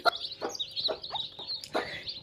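Chicks of desi country chickens cluck and peep in short scattered bursts late at night during feeding, close by and moderately loud, with no talk.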